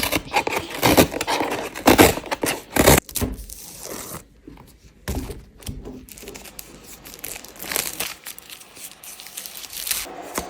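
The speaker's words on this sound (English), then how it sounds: "We've got another package, which I'm going to open." A parcel package is opened with close crinkling, tearing and scraping of packing material in irregular bursts, loud at first and then softer rustling, with no talking.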